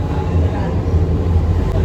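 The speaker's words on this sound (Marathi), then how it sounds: "इथे इथे बघा, इथे बघा, इथे अशी अशी जाते मेट्रो" A metro train passing close by, giving a steady, loud low rumble that holds evenly throughout with no clear rise or fade.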